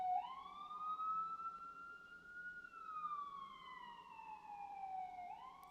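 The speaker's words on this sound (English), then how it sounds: "Sorry about the sirens, guys." A siren wails in the distance, its tone sliding slowly up and down over a low background hum.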